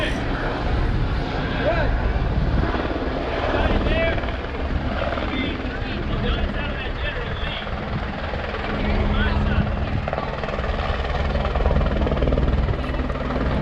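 A helicopter lowers John Schneider onto the roof of the General Lee car before a long jump stunt, its rotor and engine roaring loud and steady throughout, with faint crowd babble beneath.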